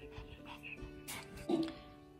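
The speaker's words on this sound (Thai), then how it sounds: "เห็นรูปภาพแล้วก็เห่าใหญ่เลยอ่ะ" A small dog barks and whimpers indoors at a photograph, faint and somewhat distant, with a short louder yip near the end over quiet background sound.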